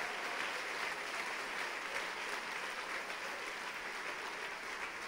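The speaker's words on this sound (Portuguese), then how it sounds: "Pode aplaudir ao Senhor, Jesus." Church congregation applauding during a Holy Communion service, a steady broad wash of clapping that holds at an even level throughout, with no voices standing out.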